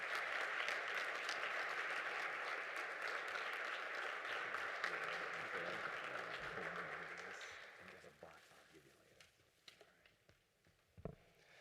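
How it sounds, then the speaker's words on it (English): An audience applauds steadily at a Martin Luther King Humanitarian Award celebration, a dense sustained clapping that fades after about eight seconds into a few scattered claps and light room noise. "Can we give another round of applause to our awardees this year"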